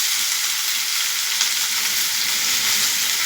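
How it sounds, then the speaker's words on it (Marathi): Chopped onion fries in oil already holding mustard seeds and cumin, a loud, even, continuous sizzle with barely any change in level across the clip, heard close with no talking. "आता मी त्याच्यात कांदा घालते"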